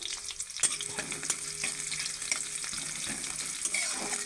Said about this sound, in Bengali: পেঁয়াজটা একটু ভালো করে লাল লাল করে ভেজে নেব।